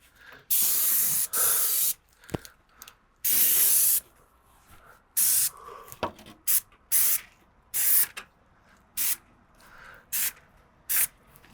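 An airless paint sprayer fires repeated short bursts of spray while masking paper covers pipes and boxes, each hissing blast lasting about a second with brief pauses between, close and loud.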